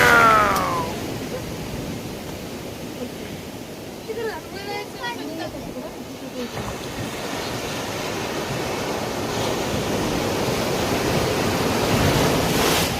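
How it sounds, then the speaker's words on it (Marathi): Big sea waves surge and break against rocks on Diveagar beach in Konkan, a steady roaring wash with wind buffeting the microphone, while someone talks over it. "बघा ना केवढ्या लाटा आहेत"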